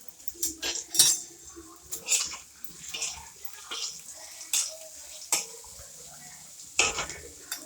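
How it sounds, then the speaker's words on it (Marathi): Onion fries in a pan while a spatula stirs and scrapes it, giving irregular clinks and scrapes over a soft background sizzle at close range, with no talk. "कांदा आपला मस्त फ्राय होतो"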